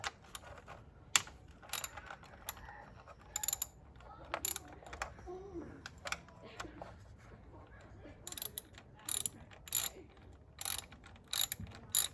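Ratchet with a 10mm socket backing out bolts on an Alfa Romeo Giulia engine bay, rapid clicking bursts repeated at irregular intervals, close and fairly quiet.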